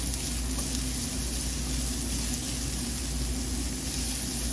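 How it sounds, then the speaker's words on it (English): Chopped garlic sautéing in a pan, a steady continuous sizzle that holds close and even throughout with no other sounds. "I'm going to put a little chopped garlic. So real quick, saute."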